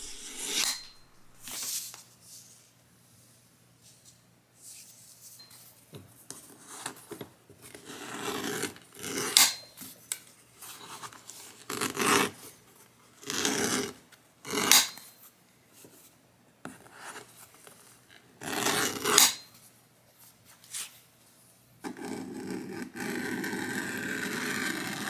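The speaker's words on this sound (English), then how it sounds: "However, I actually preferred simply beveling one edge at a time." TandyPro strap edge beveler shaving the edge of a leather cartridge belt, a run of repeated scraping strokes with brief pauses between them, close and unaccompanied by talk.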